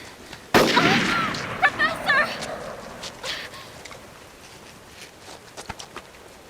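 A single sharp gunshot cracks in Disaster: Day of Crisis, loud and close, followed by a fading tail and scattered softer clicks and footsteps over quiet game ambience.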